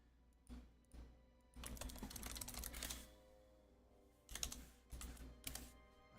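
Fingers type on a computer keyboard in quick, uneven bursts of clacking keys, close and quiet, pausing briefly between runs, with no voices.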